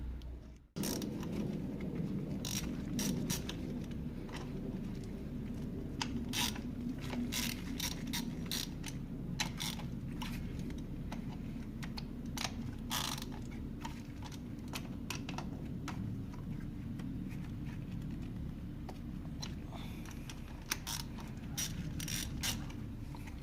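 Plastic ignition coils clicking and rattling as they are pulled from a 2003-2006 Kia Sorento engine, a steady run of close, sharp mechanical clicks and clunks throughout with no talking.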